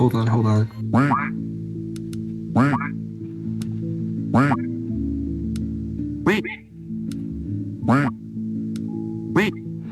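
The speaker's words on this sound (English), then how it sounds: "the new evil duck has kind of a deeper voice, a deeper tone to it than the other duck that we have currently" Squeezable evil duck toy giving deep-toned quacks, a series of about eight separate squawks spaced a second or so apart, close and clear over a quiet room hum.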